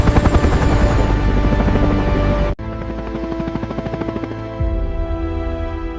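A heavy-lift helicopter's rotor thumps in a rapid, steady rhythm close by, with a loud, heavy engine whine; the pitch of the throb shifts midway.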